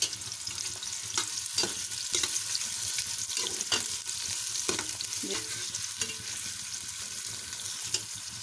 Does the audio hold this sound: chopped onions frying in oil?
yes